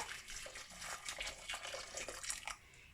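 Water poured from a tap over chopped swede in a pot, a soft continuous splashing and gurgling stream, faint and close, with no talking.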